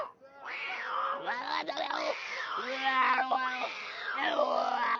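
A cat meows and yowls repeatedly as dogs meet cats, with long wavering cries that rise and fall across the clip at close range.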